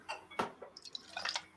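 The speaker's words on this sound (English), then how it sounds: "we're pouring it into the shaker" Gruvguld whisky is poured into a cocktail shaker, a short run of small splashes, drips and light glassy clinks, close and fairly quiet.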